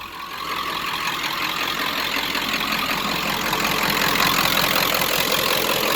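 A 1995 Ford F250 7.3 Powerstroke diesel idles close by, loud and steady, with a rough, rapid low-end clatter that holds throughout.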